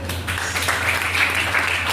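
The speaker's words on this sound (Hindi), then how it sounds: "सो एक मैं चाहूँगा कि बच्चे इस बात पे जरूर ताली बजाएं।" Students applauding at a college anti-tobacco awareness event, a brief burst of crowd clapping, fairly loud and close, over a steady low hum.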